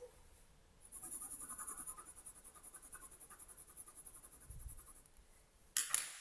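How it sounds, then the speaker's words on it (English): Colored pencil scratches steadily across textured paper, a faint, close, rasping stroke that pulses with each pass and ends in a brief sharper scrape. "You really can hear the texture on the paper, and you go over it, and I can apply a little bit more pressure."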